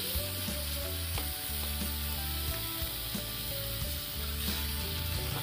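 Ingredients for pulao fry in a pan with a steady, close sizzle that crackles on without pause, with faint background music playing under it.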